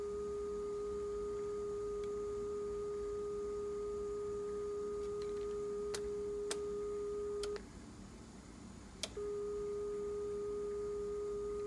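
A steady, pure calibration test tone from a Nakamichi 680zx cassette deck holds for several seconds, broken by a few sharp clicks and one short gap, over a low bed of tape hiss.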